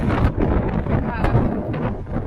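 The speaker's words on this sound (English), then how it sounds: "It's too windy, it's too cold. Very cold wind." Strong, very cold wind buffets the microphone in heavy, continuous gusts during a mountain bike ride in New Hampshire, with a faint voice underneath.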